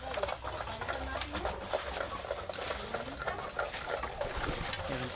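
Pigeons cooing at feeding time, soft continuous calls close by over a busy background of pattering and rustling, with no talking.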